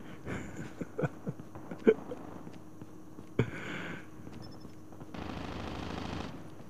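Heavy weapon fire in a video game, with scattered sharp shots and small bursts of gunfire followed by a sustained rattling burst, moderately loud against quiet game ambience.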